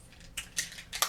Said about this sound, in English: I'm just trimming the end of my eyebrow a little bit.